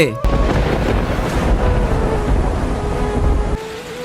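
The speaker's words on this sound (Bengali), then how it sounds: "সত্যি তো বৃষ্টি শুরু হলো" Rain beginning to fall in a short comic skit, a dense, loud hiss that starts abruptly after a brief pause and continues steadily before dropping off near the end.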